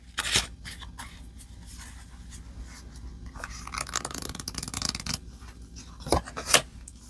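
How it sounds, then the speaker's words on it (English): Tarot cards from an RWS Panorama deck being shuffled and drawn, heard as soft close rustles and slides with a few sharp flicks and snaps, quiet overall. "I'm going to draw from the RWS Panorama deck here and see what we have from the tarot."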